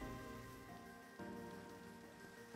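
Rain in the video game Minecraft, a steady faint patter washing over the scene, with a low tonal music or ambient bed running underneath.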